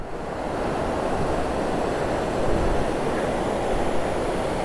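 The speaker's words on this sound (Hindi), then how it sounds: "ये रहा पहला वाटर क्रॉसिंग भाई साहब। ये रही गौरी गंगा" The Gauri Ganga river rushes through a water crossing, a dense, steady roar of fast water, loud and close with no breaks.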